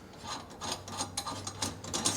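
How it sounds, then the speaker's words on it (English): Screws on a garbage disposal mounting ring are tightened, producing a quiet, close run of rapid ratcheting clicks in uneven bursts with no voices. "as I tighten these screws now, you can actually see when I tighten the screw"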